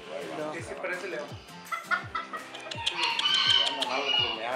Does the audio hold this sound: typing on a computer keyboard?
no